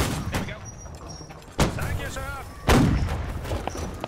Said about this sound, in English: Fucking mortar!